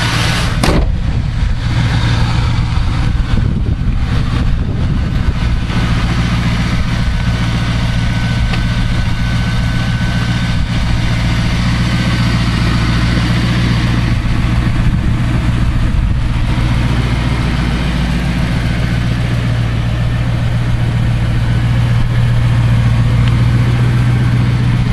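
A 1999 Lincoln Town Car with a 4.6 liter V8 and an exhaust leak idles loudly and steadily up close, a deep, constant rumble with no talking.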